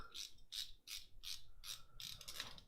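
A Wera 838 RA-RM ratcheting bit holder clicks through about seven quick, crisp ratchet strokes at an even rhythm, close up and fairly quiet, with no speech.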